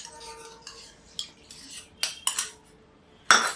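A metal spoon scrapes and taps against a cooking pan while stirring yogurt for a makka (corn) sabji, several clinks and a louder scrape near the end, close and alone without talk.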